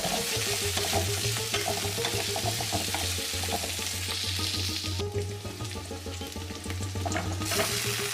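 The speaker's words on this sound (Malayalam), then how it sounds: "കുറച്ച് വെളുത്തുള്ളി ചതച്ചത് ഇതിലേക്ക് ചേർക്കുന്നുണ്ട് വീണ്ടും നമുക്ക് ഒരു മിനിറ്റ് നേരം വഴറ്റിയെടുക്കാം" Crushed garlic sautéing in a hot pan for sambar, with a steady close sizzle and frying hiss throughout and a spoon stirring it at intervals.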